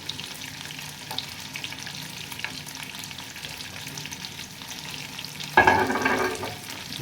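Onion, capsicum and cabbage fry in a hot pan for Pakistani-style macaroni, with a soft steady sizzle that flares into a louder burst near the end as more vegetables hit the oil.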